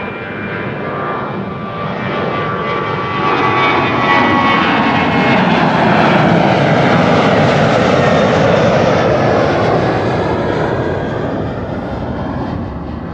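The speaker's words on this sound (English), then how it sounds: "after this 737 we are going to see two wide bodies taking off. And this is KLM to Bucharest." A KLM wide-body jet departing Amsterdam Schiphol for Bucharest roars down the runway, its engine noise swelling loud and broad before slowly fading, heard on its own without talk.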